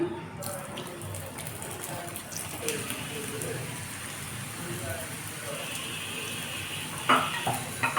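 Small singara pastries frying slowly over low heat in hot oil, giving a steady close sizzling hiss throughout, with a few kitchen clinks near the end.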